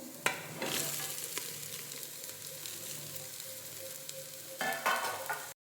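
Carrot, beans and capsicum hit hot oil in a pan, giving a close, bright sizzle with sharp stirring clatters at the start and again near the end before cutting off.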